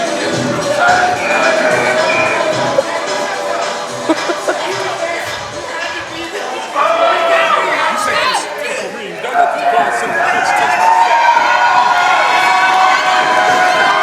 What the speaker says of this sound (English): There you see the affection from the crowd here at Premier Arena